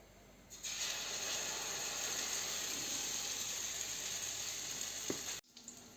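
Steady sizzling of zucchini slices coated in flour and breading frying in a hot pan, a continuous crackling hiss that holds evenly for several seconds before cutting off abruptly.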